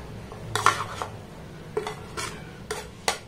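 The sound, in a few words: mixing gram flour and onion batter in a bowl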